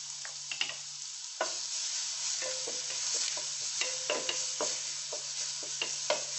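Crushed ginger, garlic, coriander leaves, green chili and masala fry in a little oil for spicy channa, giving a soft continuous sizzle broken by repeated spatula scrapes and taps.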